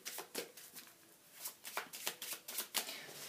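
A deck of Lenormand fortune-telling cards is shuffled by hand in quick, soft riffling bursts, faint and close, repeating in an uneven rhythm.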